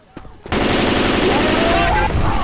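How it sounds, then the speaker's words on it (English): Gunfire in the zombie shooter Left 4 Dead 2 opens with a few faint shots, then bursts into loud, rapid, continuous automatic fire that dominates for about two seconds. "Who in the hell just shot me?"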